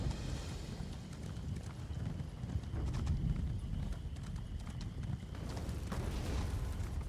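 Horse hooves clip-clop at a gallop in The Elder Scrolls Online, with a steady rapid rhythm over a dense low rumble of game sound. The hoofbeats are continuous and fairly loud throughout.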